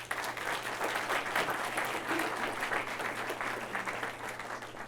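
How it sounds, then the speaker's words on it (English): Audience at a township event applauds the Thurston High School Women's Chorus, a sustained, even wash of many hands clapping heard from a moderate distance with a low hum beneath. "How about another warm welcome of a round of applause for the Thurston High School Women's Chorus?"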